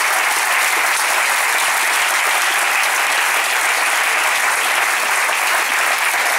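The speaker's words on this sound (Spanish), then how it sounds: "Denle un aplauso al Señor, pero déselo sabroso." A church congregation gives sustained, loud applause during a youth sermon, after a young man asks to be baptized. Dense clapping fills the whole stretch without a break.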